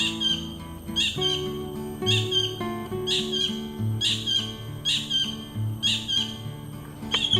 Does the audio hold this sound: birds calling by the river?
yes